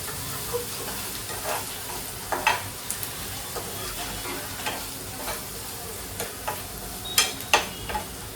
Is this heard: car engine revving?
no